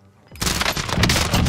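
Rapid video game gunfire erupts abruptly after a brief quiet moment, a loud, dense burst of automatic shots that continues without pause to the end.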